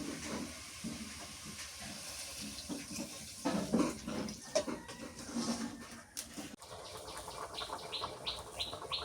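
Water being poured into a pot of pumpkin curry seasoned with garlic paste, salt and turmeric, a steady splashing pour with a short break partway, under faint background chirps.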